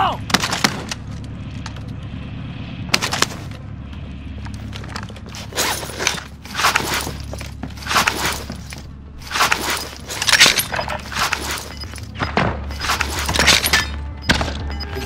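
Gunfire in the Warzone video game: repeated bursts of shots crack out across the scene, some rapid like a machine gun, mid-distance and fairly loud over a steady low game rumble, with footstep-like clatter between.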